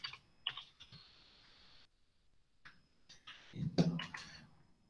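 Fingers tap a computer keyboard in short bursts of clicking keystrokes, with a pause in the middle and a louder cluster toward the end, close and quiet with no talk.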